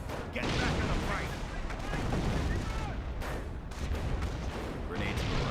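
Artillery fire in the World War II strategy game Company of Heroes 1, shelling Fallschirmjäger troops: a dense, steady rumble of booming explosions and gunfire under a commentator talking.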